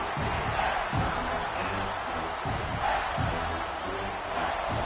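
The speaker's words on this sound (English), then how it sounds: "And here comes the noise. This crowd is trying to inspire this defense to make a big red zone stop." A roaring stadium crowd at a Virginia Tech vs Clemson college football game, a dense sustained wall of cheering and shouting that swells in waves, with a commentator's voice partly audible beneath it.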